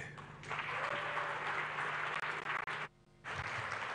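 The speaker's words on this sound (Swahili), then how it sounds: "Makofi tena tafadhali kwa mheshimiwa mgeni rasmi" Audience applause for a guest of honour after a speech at a Tanzanian digital revolution event, a sustained crowd clapping that fills most of the clip, briefly dipping near the end before resuming.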